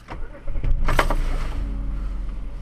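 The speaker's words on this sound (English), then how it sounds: "So I start the car." Car engine starting with a short cranking burst followed by a settled low idle, close up and loud.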